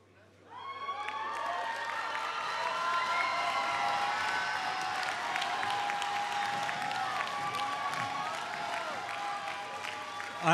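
A large commencement ceremony crowd cheers, whistles and applauds steadily and loudly. The noise swells within the first second and holds at full volume to the end.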